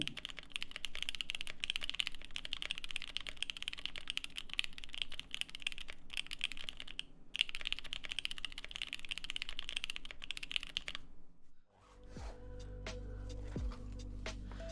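Typing on a Bakeneko mechanical keyboard fitted with Durock L7 switches and light foam in the bottom, steady close clacking keystrokes for about eleven seconds, then a pause and a few scattered knocks and handling sounds.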